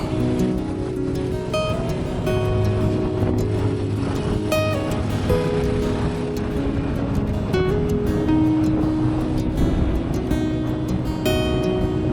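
A motorcycle heads west out of Palembang on the East Sumatra route, its engine droning steadily with continuous rushing road and wind noise at close range throughout.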